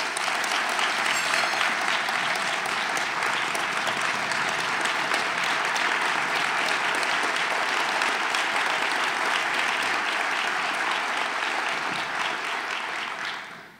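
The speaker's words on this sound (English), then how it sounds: "let's please give her a round of applause" A sustained round of audience applause at a lecture-series breakfast event, dense and even clapping that holds steady for nearly fourteen seconds before fading off at the very end.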